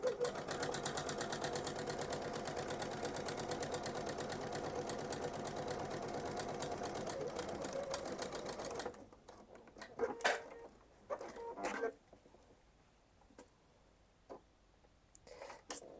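A sewing machine stitches a bag seam with a back stitch, its steady rapid whir running close by for about nine seconds. After that it stops, leaving quiet handling noises and a few brief bumps.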